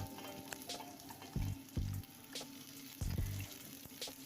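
Sliced onion sautéing in a little oil in a wok, a steady frying sizzle punctuated by several brief scraping stirs, heard close up with no talking.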